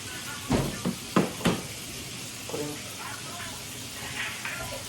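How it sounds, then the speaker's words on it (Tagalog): Steady sizzling hiss of fish frying in a pan, with a few sharp knocks of a utensil near the start and faint voices nearby. "Prito sila ng isda."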